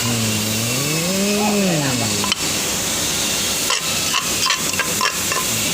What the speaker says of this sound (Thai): เสียงขูดครกครับนี่